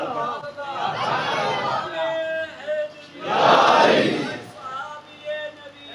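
A crowd at an Islamic religious gathering shouts the slogan Tajdar-e-Khatm-e-Nabuwat in two loud surging waves of massed voices, with a lone voice leading between them.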